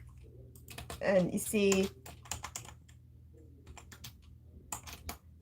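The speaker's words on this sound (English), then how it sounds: "More typing while I can't talk." Computer keyboard typing in scattered bursts of keystrokes, fairly close, with a voice speaking briefly over it and a steady low hum underneath.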